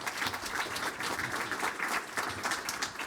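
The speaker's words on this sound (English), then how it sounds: "Please give them all a round of applause." A conference audience applauds panelists at a circular economy event on Africa, producing a continuous, evenly textured round of clapping at moderate volume from start to finish.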